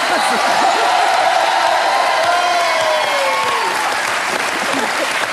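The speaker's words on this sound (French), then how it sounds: "Vous pouvez applaudir Patrick Fiori qui est avec nous." A studio audience applauds loudly for Patrick Fiori on a Cauet show, a thick, sustained wash of clapping with cheers and whistles rising above it.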